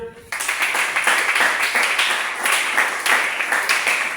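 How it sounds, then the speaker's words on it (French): Applause from a congregation at a church service installing a pastor, steady dense clapping starting abruptly after a brief pause and continuing loudly throughout, with occasional sharper individual claps standing out. "Est-ce que vous pouvez applaudir?"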